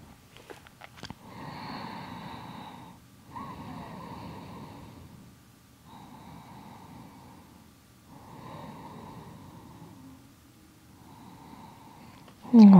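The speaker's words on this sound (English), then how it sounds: "a few more breaths here" Slow, deep breaths during a gentle yoga flow, each long inhale and exhale soft and close, repeating in a steady rhythm with quiet pauses between.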